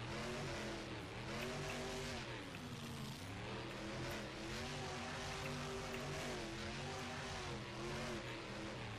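Saigon Shaker monster truck roaring through wheelies at a Virginia Beach freestyle show, a loud continuous engine drone that rises and falls in pitch as the throttle works, with crowd and arena noise beneath.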